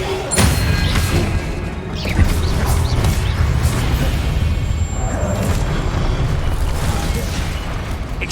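In Hogwarts Legacy, an Expelliarmus spell is cast amid a loud, dense mix of magical bursts, pops and crashing impacts, with steady rumbling combat effects throughout.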